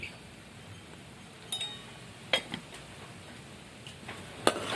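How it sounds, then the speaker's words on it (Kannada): Turmeric stirred into frying onion curry in a pan, a quiet stretch of faint scraping with a few sharp metallic clinks of a utensil against the pan, no voices. "ಅರ್ಶಿಣ ಹಾಕೊಂಡು ಮಿಕ್ಸ್ ಮಾಡ್ಕೊತೀನಿ ರೀ"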